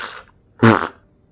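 A single short, loud fart from a video game character rips out in the middle of near silence, preceded by a faint brief noise.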